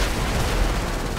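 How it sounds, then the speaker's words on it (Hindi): Gunfire in GTA 5 crackles in a loud, continuous burst of rapid shots layered with booming noise, dense and sustained for the whole moment. "ओह गोलियां चल गई, अभी गन मार रहा है भाई"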